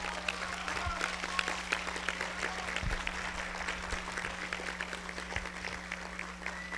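An audience applauds at a human rights and sovereignty event, the clapping soft and distant with a low steady hum underneath and no voices over it.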